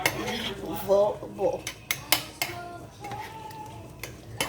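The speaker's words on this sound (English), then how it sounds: "And then we're just gonna mix this around like this." Shrimp, ramen noodles and broccoli are tossed in a pan, with close metallic clinks and scrapes of a utensil against the pan in uneven bursts. A voice speaks briefly at the start.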